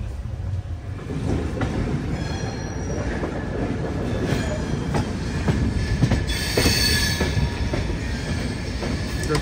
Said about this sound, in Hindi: हम लोग की ट्रेन दिल्ली से निकली है और शिवाजी ब्रिज होते हुए आगे बढ़ रही है